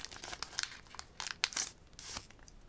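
Foil wrapper of a Pokémon card booster pack being torn and crinkled open by hand, a close series of sharp crackling rips and rustles of varying loudness, no talk.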